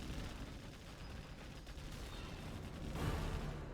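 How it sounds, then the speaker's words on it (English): A fuel air bomb detonating in Command & Conquer Generals Zero Hour, a real-time strategy battle: a faint, rumbling crackle of distant blasts and gunfire, swelling into a heavier boom near the end. "That was a firebomb right there. Or fuel air bomb, I should say."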